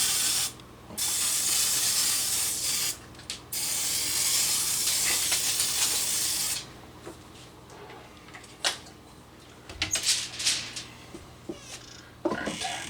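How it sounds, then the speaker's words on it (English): Oil spray spritzed onto asparagus for an air fryer: two long, loud hissing bursts with short breaks between them, then scattered softer handling noises and clatter. "And I'm going to give it another spritz."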